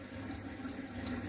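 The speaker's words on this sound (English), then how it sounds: "You can hear by the sink that it's draining" Waste water from a washing machine drains into a sink with a steady, faint rushing trickle, heard alone and continuously.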